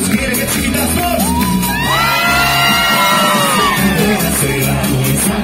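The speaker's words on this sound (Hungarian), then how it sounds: "És kérek egy sikítást most!" A concert crowd at a live pop show screams and whoops together, a dense, loud wall of cheering with rising yells and a sung voice riding over the top throughout.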